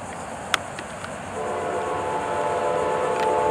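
A BLF 703 northbound freight train approaches with a steady rumble that builds over a few seconds, and brief horn notes sound near the start.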